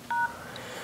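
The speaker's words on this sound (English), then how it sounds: "you open your phone application and you dial the following command" An LG G2 keypad gives one short, clean dial tone beep, close and alone over a faint background hiss.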